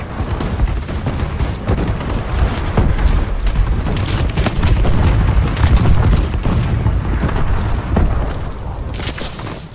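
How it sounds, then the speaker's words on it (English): Friendly bombing run in Call of Duty Advanced Warfare multiplayer, a loud, continuous barrage of heavy booming explosions rumbling and overlapping for nearly ten seconds. "Friendly bombing run incoming."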